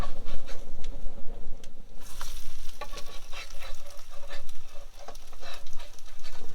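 Food frying and sizzling in a pan at a riverside campsite, with steady crackle, a couple of scraping stirs and the clatter of the pieces being turned partway through, all close and fairly loud.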